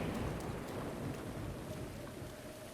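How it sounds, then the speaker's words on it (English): Rain and thunder in the Breath of the Wild video game, a dense, steady hiss of rainfall with a low rumbling undertone, continuous and enveloping, with no talking. "And since it's still raining..."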